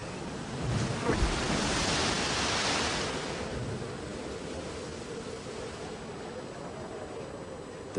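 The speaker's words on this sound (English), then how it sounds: "The bitter Arctic storm has suddenly engulfed the Fierce Allegiance." Heavy wind of an Arctic storm on the Bering Sea roars over crashing sea waves in a steady, broadband wash, loudest early on and easing slightly toward the end.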